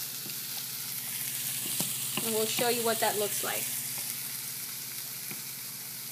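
Vegetables sautéing in a pan for Dominican guandules, stirred constantly: a soft, steady sizzle runs throughout as a voice speaks briefly over it.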